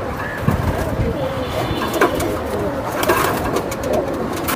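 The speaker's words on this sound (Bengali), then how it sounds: "এই যে কবুতরগুলো দেখাই দিলাম" Pigeons at a Bangladeshi pigeon seller's coo in soft, low repeated calls close by, joined by rustling, wing flutters and background bustle.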